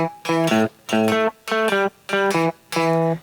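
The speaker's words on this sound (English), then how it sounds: "very common blues riff thing where you jump the octave" A guitar plays a short bluesy riff of plucked notes, jumping up and down an octave in a steady, bouncing rhythm, clear and close.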